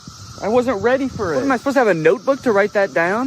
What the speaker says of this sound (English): It's the year of the cicada and they're everywhere.